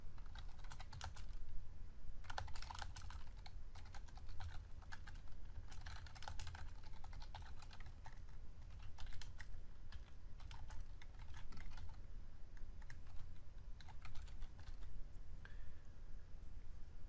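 Rapid, continuous typing on a computer keyboard, with fast irregular bursts of key clicks heard close and alone in a quiet room.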